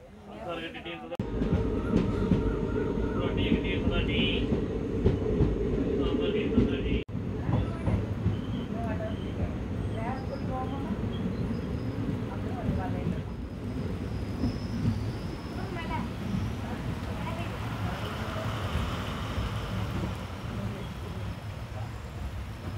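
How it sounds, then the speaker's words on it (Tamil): Heavy rain pours down on the Guruvayur–Madurai train between Tirunelveli and Rajapalayam, a dense continuous wash mixed with the rumble of the moving train, while a voice talks over it. "சரியான மழை பெய்யுது."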